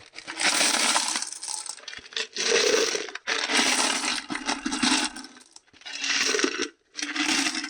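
Rock tumbling media clatters and rattles into a tumbler barrel in several loud, gritty bursts separated by short pauses.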